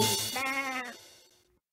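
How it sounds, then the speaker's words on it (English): A single sheep bleats nearby, a wavering, drawn-out call that fades away at the end. "It's a sheep."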